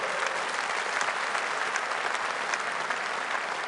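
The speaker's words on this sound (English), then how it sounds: "Give Richard a round of applause." An audience applauds Richard Tice, Deputy Leader of Reform, at a Birmingham event: steady, dense clapping that fills the room without a break for several seconds.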